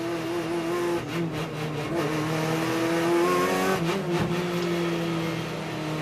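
BMW, Seat and Chevrolet touring cars racing at Pau in the 2007 World Touring Car Championship, with a loud, steady engine drone and rising revs as cars pass close by.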